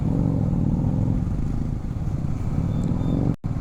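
A Roadster SD motorcycle gives off a steady, close engine rumble, heavy in the low end. The rumble holds evenly for several seconds, then cuts out abruptly near the end.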